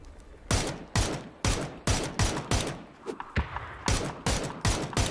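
Rapid bursts of gunfire from the battle royale game PUBG, about a dozen loud, sharp volleys fired in quick succession with short gaps between them, close and dominant, with no talk over them.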